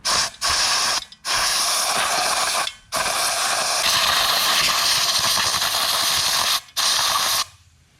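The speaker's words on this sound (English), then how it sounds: "I will blow this out to see how much dirty come out" Bursts of compressed air blast through a dirty pipe from a 2010 Toyota Prius being cleaned, a loud, close, broadband hiss in four long spurts split by short gaps.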